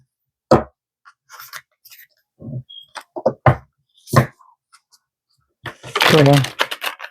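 Oracle cards being shuffled give a few soft papery riffles and taps in short, uneven bursts, close by, with a longer rustle near the end.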